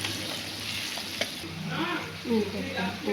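Onion and tomato with salt and turmeric sizzle gently in a pan with occasional stirring, while a voice murmurs faintly in the background.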